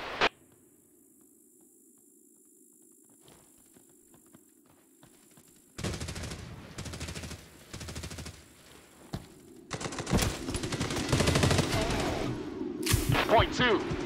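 Bursts of automatic gunfire from the PC shooter Hired Ops, sparse at first then building into dense, loud fusillades in the back half, with game voice callouts and ambient drone underneath.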